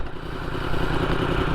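A motorcycle engine idles close by with a loud, steady, rumbling chug that holds even throughout, with no break or change in pace.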